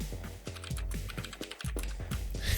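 Quick, irregular keystrokes on a computer keyboard, loud and close, clattering in bursts over a low steady hum with no voices.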